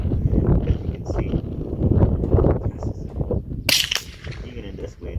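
A .22 LR rifle fires at a target outdoors on a windy range, sharp cracks with one especially loud report near the end, amid gusty wind noise and someone talking.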